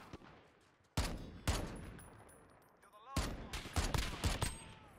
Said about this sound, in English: It's the M14, so it's going to be a semi-auto firing.